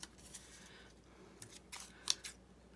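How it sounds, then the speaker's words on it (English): Tiny scissors cut paper for making envelopes, giving a few quiet, close snips and a sharp click amid soft handling noise, with no talking. "never can find those tiny scissors when I need them"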